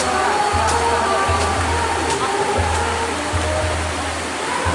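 Water of the Cikasok river flowing beneath a village footbridge, a loud continuous rushing roar close by, with low rumbling thumps pulsing underneath.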